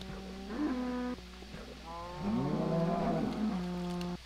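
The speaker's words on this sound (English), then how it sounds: "Let's feed our cows." Cows in a farming video game low repeatedly in drawn-out, tonal moos, several overlapping calls close by and loud, with no talking over them.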